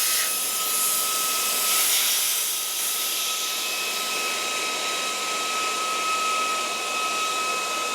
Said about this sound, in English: Now I'm going to go ahead and turn this off so we don't have to listen to the fan anymore.